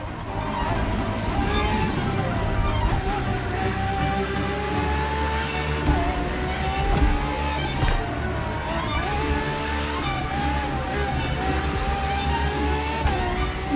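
Ferrari FXXK supercar engine in The Crew Motorfest racing game, a loud continuous high-revving roar that rises and dips with gear shifts and throttle changes over several seconds, close and dominant.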